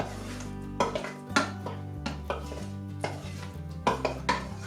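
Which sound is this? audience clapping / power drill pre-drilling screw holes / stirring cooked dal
stirring cooked dal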